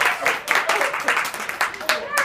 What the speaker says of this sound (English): give my volunteers a big round of applause.